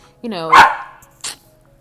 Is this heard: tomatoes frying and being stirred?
no